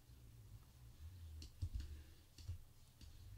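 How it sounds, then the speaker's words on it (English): Mouse clicks while brushing away gray areas of a layer mask in Photoshop CS5, a handful of quiet, soft ticks spaced irregularly over a low background hum, with no speech. "I'm just clicking along, getting rid of it."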